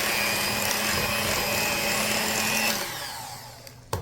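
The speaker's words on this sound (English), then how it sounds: "I've had this hand mixer since I got married. I got it from Kmart." Old Kmart hand mixer whirring steadily with a high motor whine for almost three seconds, then spinning down and stopping, followed by a faint click.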